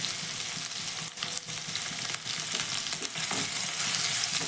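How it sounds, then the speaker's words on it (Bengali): Grated ginger and garlic frying in a pan, a dense continuous close sizzle with a few stirring scrapes, growing a little louder toward the end. "আদা রসুনটা আমি এবার দিয়ে দিলাম। আদা রসুনটা একটু ভেজে নেব।"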